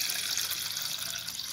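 Tap water runs steadily into a sink as freshly harvested vegetables such as squash and carrots are washed, a continuous close hiss with no talking.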